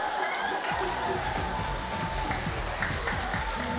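Crowd applause and cheering at a Mid-Autumn Festival belly dance performance, a continuous wash of clapping with scattered shouts and chatter, fairly loud and close.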